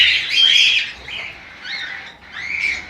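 Lovebirds in a breeding cage squawk loudly and up close in three harsh, shrill bursts with short gaps between them.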